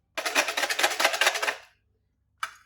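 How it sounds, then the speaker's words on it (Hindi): Fast whisking of egg with salt in a bowl, a rapid run of bright, crisp clicking strokes for over a second, then silence and one short final burst, close and alone without talk. "और 1 चम्मच जो नमक मैंने बताया था ये इसमें ऐड कर देंगे और अच्छी तरह इसको पहले मिक्स करेंगे।"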